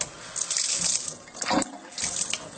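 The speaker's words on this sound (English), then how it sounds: "here's our tap. And I'm going to turn the tap on." Water runs from a kitchen tap, a steady broadband hiss and splash that swells and dips as the flow shifts, close by with no talking.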